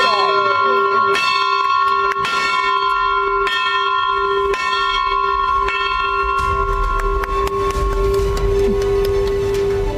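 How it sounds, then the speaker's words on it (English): A bell rings repeatedly for the opening of trading at the NSE on a Budget 2025 Saturday session, its strikes sounding close and loud over a steady murmur of a crowd. "ringing the bell here from NSE itself"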